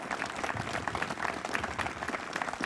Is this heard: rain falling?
no